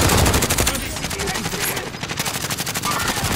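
Rapid bursts of automatic gunfire in a video game, loud and close, with regular rattling shots running through the whole stretch and voices faintly beneath.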